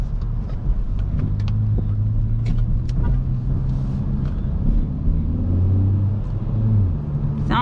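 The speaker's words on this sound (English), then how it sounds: "You can hear the exhaust a bit." Low steady exhaust drone of a 2022 Kia Forte GT Limited with a 7-speed DCT, heard from inside the cabin, a constant rumble with slight rises in pitch and no voices.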